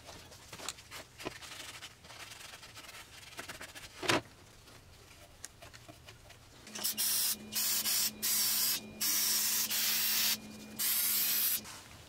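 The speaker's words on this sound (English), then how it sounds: "we'll clean it off with some brake cleaner" Brake cleaner sprayed onto a Chevrolet Cruze 1.8L oil cooler surface in a series of close, loud hissing bursts, five or six spurts of a second or two each with brief gaps, after some quieter handling noises.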